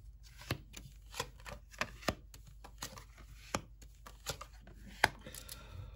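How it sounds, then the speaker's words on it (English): Tarot cards shuffled and drawn from a deck, heard as a run of soft, close riffling and slapping clicks at irregular intervals, fairly quiet, with no talking. "I'm going to take out three cards from that."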